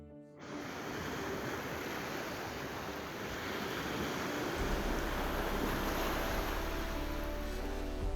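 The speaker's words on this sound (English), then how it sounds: "rolling sand meets the crashing waves" Atlantic Ocean surf crashes steadily onto a sandy beach beside golden dunes, a continuous broad wash of breaking waves heard up close, with a low wind rumble growing beneath it.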